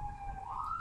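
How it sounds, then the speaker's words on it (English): An ambulance siren wails faintly from outside a home, a steady rising tone heard at a distance. "you might hear some background noise because of the ambulances"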